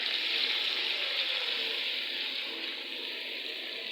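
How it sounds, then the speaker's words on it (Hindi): Water poured into a pan of chicken cooking in ghee sets off a steady hiss and sizzle, soft and close, fading slightly over a few seconds with no talk. "इसमें डालेंगे थोड़ा सा पानी, 1 टेबल स्पून के हिसाब से।"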